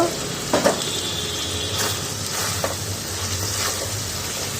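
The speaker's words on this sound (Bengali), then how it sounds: "অনেকটাই কষানো হয়ে গেছে, এবার মাংসটা দিয়ে আর একটু কষিয়ে নেব।" Chicken sautéing in a pan with onions, a loud close sizzle broken by a few scraping stirs of a spatula, with no talk.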